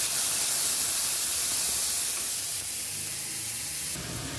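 Meat hisses and sizzles steadily in a hot pan with tomato, a loud continuous frying noise that fills the kitchen with no voices over it.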